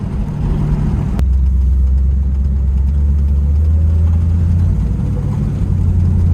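A salt-water-flooded 1973 Pontiac Trans Am Firebird runs at a steady idle, its engine a loud, deep, close rumble that drones on without revving, after a sharp click near the start.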